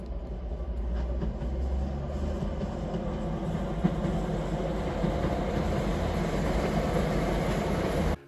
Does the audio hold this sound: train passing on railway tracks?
yes